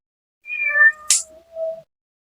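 A cat gives a clear, close meow in two parts, a rising cry followed by a short break and then a softer falling tail, with nothing else heard around it.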